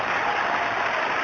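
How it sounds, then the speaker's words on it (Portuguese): Church congregation applauding at a Brazilian evangelical service, a dense, steady roar of many hands clapping together at full volume, with no gaps and no voices standing out. "dar a melhor salva de palmas que você já deu em toda a sua vida"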